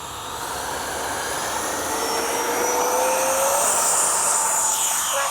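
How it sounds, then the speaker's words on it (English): A Freewing 90mm F/A-18C RC jet spools up for takeoff, its ducted-fan whine rising and swelling loud and steady, with a pitch sweep as it accelerates. "Love that KM model afterburner."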